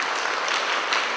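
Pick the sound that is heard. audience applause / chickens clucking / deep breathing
audience applause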